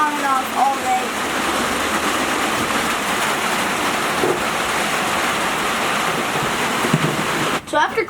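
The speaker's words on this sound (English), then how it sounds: "And that's the Florida rain for you." Heavy Florida rain pours in a dense, continuous hiss at constant loudness, with faint sounds of someone moving nearby under the steady downpour.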